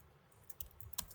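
Keys on a computer keyboard tap out code in a quick, light run of close clicks with nothing else heard.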